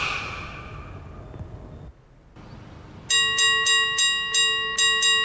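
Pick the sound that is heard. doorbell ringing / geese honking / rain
doorbell ringing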